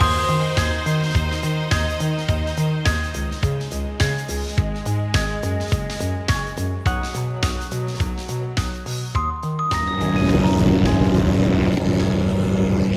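An MD 500 helicopter departs from a group meetup, heard as a steady rhythmic throbbing with tonal hum that swells into a louder, broad rushing roar over the final few seconds.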